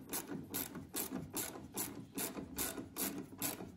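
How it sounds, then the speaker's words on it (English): A hand ratchet snugs the lower bolt on a Ford F150 tail light assembly, giving a close, steady run of rapid pawl clicks in even bursts with no talking. "And tighten the bottom one too."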